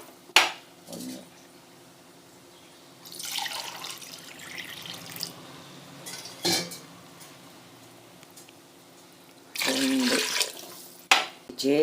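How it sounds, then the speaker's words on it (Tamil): Water pours into a metal pot of veg biryani on a home kitchen stove, several short splashing bursts with clinks of vessels and a utensil in between, fairly close and clear. "இப்போ இதில் தேவையான அளவு தண்ணி ஆட் பண்ணிக்கலாம்."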